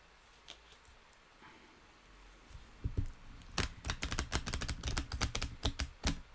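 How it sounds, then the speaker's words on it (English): Tarot cards shuffled by hand, starting with a few soft taps, then a dense run of sharp riffling clicks from the midpoint onward, close and fairly loud, with no talking. "I'll do the shuffle"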